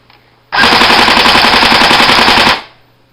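A TM/CYMA M1A1 Thompson airsoft gun test firing after a bolt mod, one continuous rapid full-auto burst of about two seconds, loud and close, with quiet before and after.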